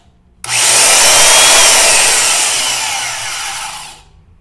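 A Porter-Cable 7724 portable bandsaw switches on abruptly and runs with a loud, steady, close whine and whir, then slowly fades a little over a few seconds before cutting off at the end. No one speaks.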